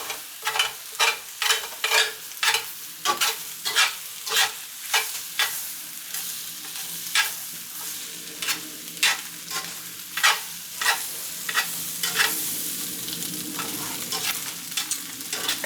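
Eggs sizzle in a cast iron pan under a steady hiss of frying, while a utensil stirs and scrapes them in a quick, regular rhythm throughout.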